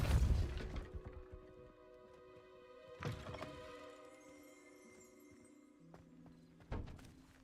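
Depulso spell in Hogwarts Legacy striking and breaking objects: a loud thudding burst at the start, another impact near three seconds and a third near the end, over a low, sustained ambient musical drone.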